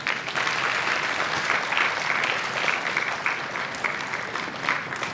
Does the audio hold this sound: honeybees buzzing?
no